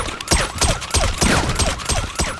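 Rapid bursts of gunfire ring out in a Grand Theft Auto shootout inside a house, about eight sharp, evenly spaced shots in quick succession, loud and close, with no voices.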